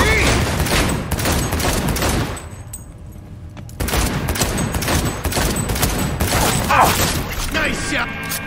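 Gunshots in Cyberpunk 2077, dense volleys of close, loud shots with a brief lull in the middle before firing resumes, a voice shouting over the battle.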